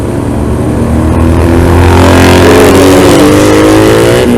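A Moto Guzzi V7 Stone Scrambler with a 750 cc two-cylinder V-twin engine revs loud and close, its pitch climbing steadily in one long sweep and then easing off slightly near the end, with no talking over it.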